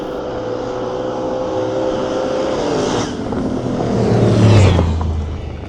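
GMC Sierra truck and a fourth-generation Camaro drag racing, loud engine roar with pitch sweeping upward as they accelerate, swelling as they pass close by.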